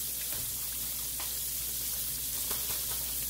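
Potato hash brown patties sizzle and crackle steadily in a pan, a continuous close frying hiss with occasional small pops and faint clinks, no talking.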